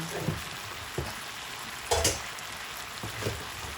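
Jamaican pepper steak sizzles and simmers in a pan, a steady close frying hiss with occasional louder pops and spatters and no talk.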